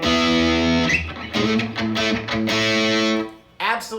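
Loud distorted electric guitar through a Boss ME-80 DS-1-style distortion into a 1968 Fender Deluxe Reverb, riffing in short bursts and held chords, crunchy and saturated, with a brief pause near the end before another stab.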